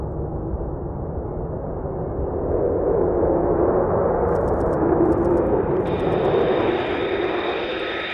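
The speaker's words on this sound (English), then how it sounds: "The elephant walk prepares squadrons for wartime operations and enhances the ability of the pilots to launch fully armed aircraft in one mass event." US F-35 stealth jets launch during an elephant walk mass takeoff, a loud, steady jet engine roar that builds slightly and holds, with a higher whine joining toward the end.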